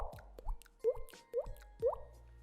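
Water drops fall one after another, a few close, clear plopping drips with rising pitch, spaced roughly half a second apart in a quiet space.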